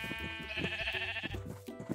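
Several blocky, pixelated sheep bleats from a Minecraft game, repeated in quick succession and fairly close, layered over a steady tonal background with no talking.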